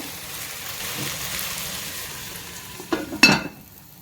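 Chicken simmering in masala under a lid for kanthari biryani, a soft steady sizzle and bubble throughout, then a couple of brief louder clanks of the pot or lid near the end.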